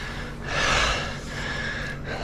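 Heavy breathing right into the camera while sitting up in a chair on a boat before an offshore passage, heard as a loud close gasping inhale that swells and fades, then a softer breath.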